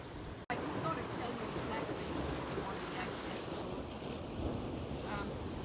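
Ocean waves wash steadily onto the shore under a clear blue sky, a continuous broad surf roar mixed with wind buffeting the microphone, after a brief dropout near the start.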